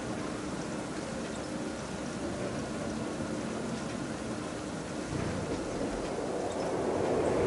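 Constant rain falls over a theme park in Planet Coaster 2, a steady hiss with low rumbling underneath, unbroken and even throughout.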